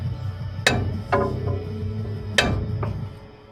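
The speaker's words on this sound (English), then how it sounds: "Then get you a hammer and give her a tap." Two sharp metallic hammer taps about a second apart, a pause, then two more, each ringing briefly on a metal fitting with a copper seal on a Chevrolet C10 rear axle, close and fairly loud.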